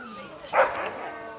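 A husky at a sled-dog kennel lets out a single short, sharp yip-bark near the microphone, standing out above quiet background noise.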